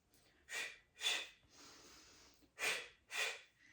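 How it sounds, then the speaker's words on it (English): Four sharp, breathy exhales come in two quick pairs, close and clear, with a softer breath between them and no talking. "I'm exhaling twice, little quick breath as I pull the leg in"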